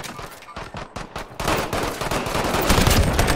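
Video game machine-gun fire rattles in rapid bursts, close and loud, thickening into a denser, continuous volley toward the end.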